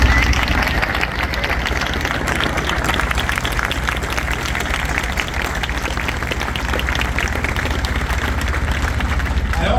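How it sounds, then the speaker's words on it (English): At a ship commissioning ceremony for USS Cooperstown, a large crowd applauds military spouses with continuous, dense clapping that holds steady throughout, with voices faintly mixed into the sound. "how about getting up and getting a hand of applause from everybody?"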